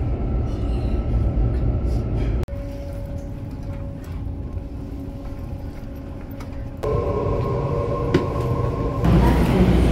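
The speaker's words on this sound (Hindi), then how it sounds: "now our train will come and will go" A train arriving at a station in Sydney, with a loud, steady rumble and rolling wheel noise that shifts in pitch partway through and keeps going the whole time.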